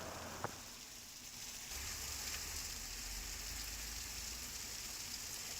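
Heavy rain pours down in Thane, a steady faint hiss of drops on surfaces that thickens partway through and carries on without a break.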